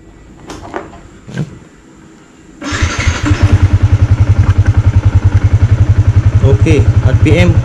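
A Yamaha Y15 V2 motorcycle, fitted with a swapped ECU, starts after a few clunks and settles into a loud, close, steady pulsing idle.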